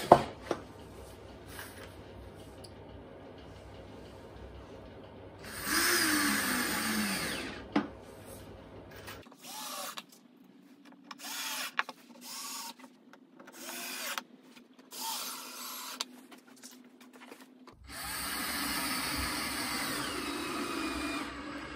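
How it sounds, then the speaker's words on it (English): A power driver sinks 25mm pocket hole screws into a workbench, with several whirring bursts of varying length separated by pauses and occasional clicks, close and fairly loud. "let's get some screws in. I'm using 25mm Craig pocket hole screws."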